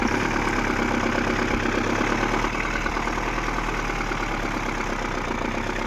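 An Iveco truck engine runs steadily and loudly up close, a continuous rough diesel drone with a low rumbling knock and no clear pauses.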